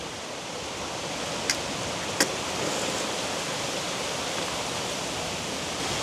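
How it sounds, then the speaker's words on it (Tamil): Strong wind roars steadily and close outdoors in a village where a cooking fire is being lit, a constant broadband rush with two brief faint clicks early on and no voices. "ஆனால் சரியான காத்தடிக்குது"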